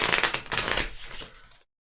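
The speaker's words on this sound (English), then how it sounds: "shuffling octagonal cards sucks" Octagonal trading cards being shuffled by hand, a quick burst of crisp riffling flutters lasting about a second and a half before cutting to silence.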